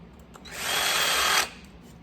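A center drill in a garage workshop starts a hole, whirring up loudly for about a second of steady cutting before spinning down, with quiet room noise around it.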